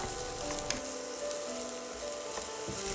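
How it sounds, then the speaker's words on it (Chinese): King oyster mushrooms stir-fry in hot oil with a continuous close crackling sizzle and a few soft scrapes of the spatula against the wok. "油热后放入杏鲍菇翻炒。"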